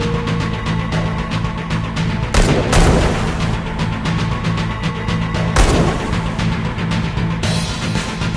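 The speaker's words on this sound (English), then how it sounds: "We can shoot these cubes!" Rapid gunfire in a virtual-reality shooting range game as the player fires at cubes, dense and continuous with two louder bursts standing out.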